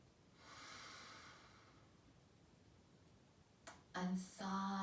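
A slow, soft inhalation through the nose during a yoga breathing exercise, faint and close, followed by a short sharper intake and then a sustained vocal tone.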